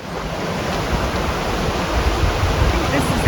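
The Sacramento River flows steadily as a broad, constant rush of water, close and fairly loud, holding an even level throughout with no pause or break.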